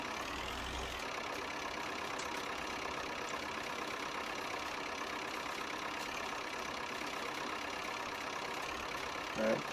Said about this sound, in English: pick the loader tractor up with a bag of seed on